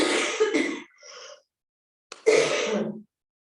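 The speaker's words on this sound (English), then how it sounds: "My coughing started Saturday after having such bad allergies all last week" A couple of rough allergy-related coughs, then a short pause and another harsh cough-like throat sound, close to the listener.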